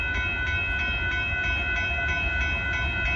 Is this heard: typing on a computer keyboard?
no